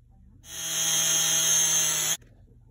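A power drill drives a screw into a plastic rat bait station in one continuous whirring burst of under two seconds. It is close and loud and ends abruptly against a quiet background.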